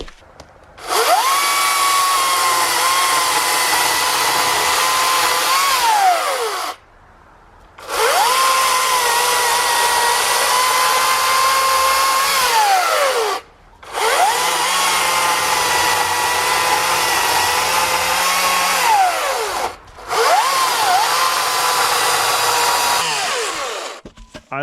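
A Harbor Freight Atlas 80V battery-powered electric chainsaw cuts wood in four loud bursts, each a high steady motor whine that dips as it bites in, separated by brief pauses.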